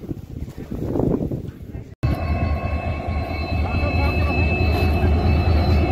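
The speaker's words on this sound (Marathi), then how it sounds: "तर ही ट्रेन आलेली आहे." A voice talks briefly, then a train's heavy rumble fills the rest, loud and steady with a faint high whine above it, as a train arrives at Vighanwadi railway station in Beed for a CRS inspection test.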